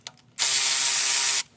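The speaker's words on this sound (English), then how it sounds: "So now I'm going to take off all these bolts." A hand ratchet spins off a valve cover bolt on a Toyota RAV4, one steady burst of rapid clicking about a second long, close and fairly loud.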